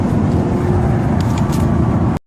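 Steady low rumble of a car driving along a road, with constant engine and tire noise, loud and close, cutting off abruptly at the end.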